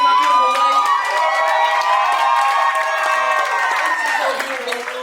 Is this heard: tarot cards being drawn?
no